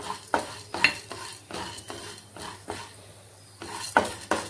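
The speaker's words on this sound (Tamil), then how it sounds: "உளுந்து லைட்டாக வாசனை வர அளவுக்கு வதங்கினோடனே நிலக்கடலை பருப்பை சேர்த்துக்கிறணும்" Stir-frying urad dal with peanuts and sesame seeds in a pan, with a spoon scraping and clinking against the metal several times over a faint sizzle, close and alone without talk.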